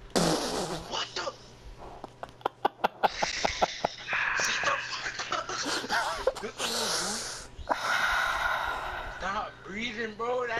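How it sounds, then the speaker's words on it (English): Heavy, noisy breathing blown close into a microphone comes in uneven wheezing bursts and sharp puffs, mixed with clicks, laughter and voices talking during an NBA 2K17 Pro-Am game session. "Stop breathing, bro"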